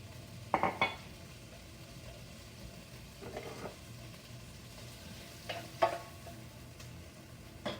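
Tomatoes cook in olive oil in a pan with a faint, low sizzle, broken by a few clinks and scrapes of a utensil against the pan at intervals.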